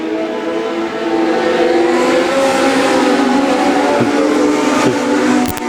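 Legend race cars roar through turns 3 and 4 on the final lap, a loud, steady, buzzing engine drone that holds throughout with no pauses.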